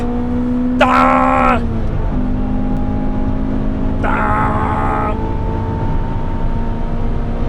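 A Honda CRX, a light car weighing around 900 kilos, drives at the Nürburgring, its engine holding a steady hum with two sharp high-pitched revving bursts rising above it, loud and close.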